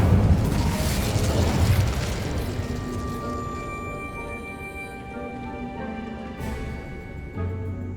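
Incendio fire spell cast in Hogwarts Legacy, a loud burst at the start that rolls into a sustained whooshing roar, settling into a fainter hum with a small flare near the end.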